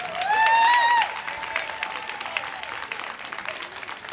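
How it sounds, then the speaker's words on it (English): A crowd at a Juneteenth celebration outside Brockton City Hall breaks into hand clapping after a brief high vocal cheer, a steady spread of applause that gradually thins over a few seconds. "Give God a hand clap."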